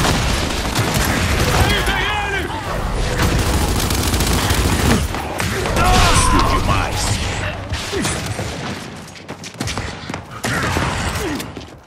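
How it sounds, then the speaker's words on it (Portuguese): A flash grenade goes off amid heavy rapid gunfire and mechanical clatter in the video game Gears 5, loud and dense with overlapping blasts, and a voice speaks over the chaos. "Granada de flash!"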